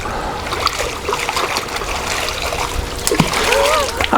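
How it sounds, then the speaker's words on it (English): A GoPro camera tossed up falls and splashes into water, followed by splattering and trickling water close by, while people talk over it. "grab it now and just like throw it up and let it just kind of fall, splash in the water"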